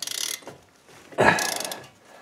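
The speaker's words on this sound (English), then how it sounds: "We're going to attack the upper caliper bolt with our 13 millimeter socket here" Ratchet with a 13 millimeter socket working a caliper bolt on a Chevy Colorado front brake, two close bursts of rapid clicking separated by a brief pause and a sharp crack.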